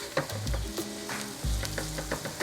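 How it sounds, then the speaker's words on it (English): Garlic sautes in a pan for a barley and mushroom risotto, giving a close, steady sizzle broken by a few low knocks and scrapes of stirring. "we're going to let this saute together now for a little bit"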